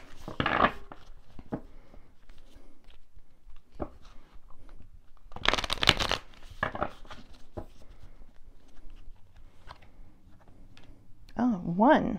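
Tarot cards are shuffled in a few short crisp riffling bursts, quiet and close, with soft taps and clicks between them and a person speaking at the end.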